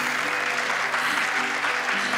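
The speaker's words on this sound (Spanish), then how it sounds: "pido un aplauso para ella" An audience applauding at a show, dense continuous clapping from many hands, steady and loud throughout.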